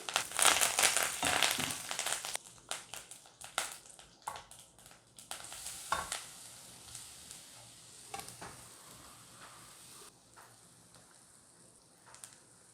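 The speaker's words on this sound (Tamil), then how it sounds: "கடுகு வச்சுட்டு ஒரு 6 கருவேப்பிலை போட்டு" Mustard seeds and curry leaves sizzle in hot oil, a bright crackling hiss that is loudest at first and then settles into scattered pops and spits, with no voices.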